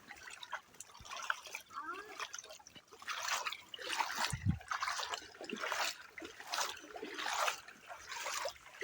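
Water being waded or driven through where it floods a rural road, heard as a steady trickling, splashing wash with rhythmic surges, fairly close and moderately loud, with no talking.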